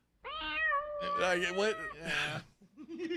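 A house cat meows in a few drawn-out, wavering cries close to the listener, with brief gaps between them and a person's voice nearby.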